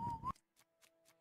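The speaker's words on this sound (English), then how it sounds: "That's loud whistling." A loud, sustained whistle cuts off abruptly, followed by a few soft evenly spaced ticks and a faint lingering tone.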